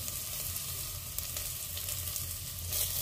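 Chopped onions sizzle in hot oil with turmeric powder while cooking spiced potato and aubergine curry, a steady, close frying hiss with faint stirring and no talk.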